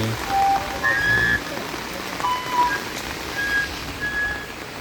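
Heavy rain falls steadily as a broad, continuous wash, with brief tonal sounds and possible background voices mixed in.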